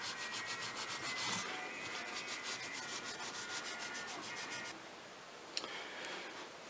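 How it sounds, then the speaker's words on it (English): Bristle brush scrubbing oil through residue on a Ruger 10/22 M1 Carbine conversion stock, a steady close rubbing swish with rhythmic strokes, briefly lighter near the end. "take some oil, take a nice bristle brush I've got here,"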